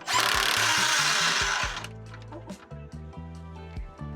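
A 17mm tool tightens the center exhaust clamp on an NB2 Miata fitted with a Cobalt mid pipe. A loud, dense rasp comes first, then a series of close, clicking ratchet strokes.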